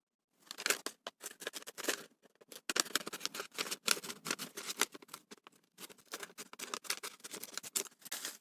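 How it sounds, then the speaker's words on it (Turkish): Repeated crisp snipping of scissors through fabric, close up, in quick irregular bursts with brief pauses, no voices. "Şimdi makasla keselim."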